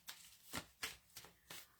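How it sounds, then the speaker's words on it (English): A deck of tarot cards is shuffled by hand close up, producing four or five soft, quick riffling swishes in an even rhythm. The sound is quiet, with no talking. "let's give these cards another good old shuffle"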